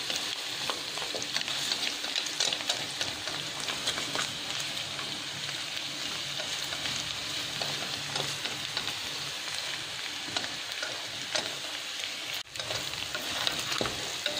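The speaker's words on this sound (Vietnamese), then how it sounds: "Mình cho tỏi vào luôn, để mình phi chung luôn." Garlic and pork ribs fry together in hot oil over high heat, giving a steady, close, continuous sizzle with occasional stirring scrapes throughout and no talking.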